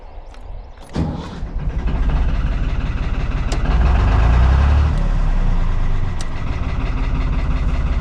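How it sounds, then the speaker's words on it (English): A boat engine turns over with a sharp start, then settles into a steady, loud low rumble that idles on with slight fluctuations. "Engine going"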